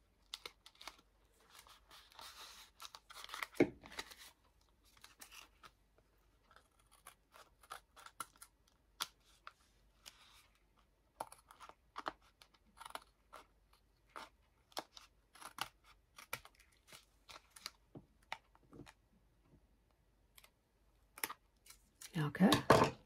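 Scissors trim a paper clip bookmark with a scattered series of quiet, close snips and paper rustles, irregularly spaced and faint.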